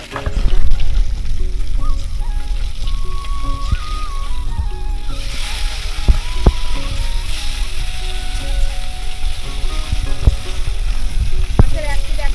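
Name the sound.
fish frying in oil in a wok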